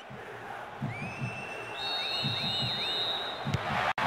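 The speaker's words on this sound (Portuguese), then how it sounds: "E a torcida canta." A stadium crowd chants rhythmically in the PS2 football game Bomba Patch during a Libertadores match, with pulsing cheers and a few high whistle-like tones over a constant crowd bed.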